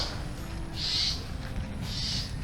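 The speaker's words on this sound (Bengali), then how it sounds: "আমি আমার দুই পাশে দুটো শালিককেও ডাকতে দেখছি।" Two common myna birds calling along a village road, giving two loud, bright hoot-like calls about a second apart, close by, over steady low background rumble.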